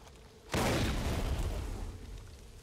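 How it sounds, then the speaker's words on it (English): A single sudden, loud, deep blast in the game Far Cry 5 bursts out of quiet, then rumbles and slowly fades over a couple of seconds. "It's quite the explosion out of nowhere."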